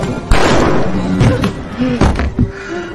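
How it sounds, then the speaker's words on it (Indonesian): A door being broken down in a zombie film: several heavy thuds and cracking impacts in quick succession, loud and close over a dense noisy background. "Fitz langsung datang mendobrak pintu tersebut"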